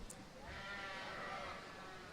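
Sheep bleating at a Northeast Regional Shropshire sheep show, a single drawn-out bleat heard against arena background noise.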